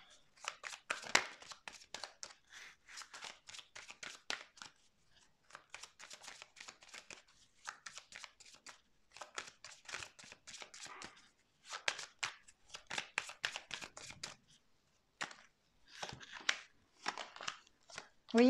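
Tarot cards being shuffled and laid out, giving bursts of crisp riffling and soft slapping of cards in irregular clusters, close and fairly quiet with brief pauses between handfuls.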